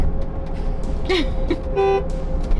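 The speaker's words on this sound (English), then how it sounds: "you have this high-pitched honk" A short, high-pitched horn on a Hummer EV SUV toots twice in quick succession, the second beep held a bit longer, with faint road noise underneath.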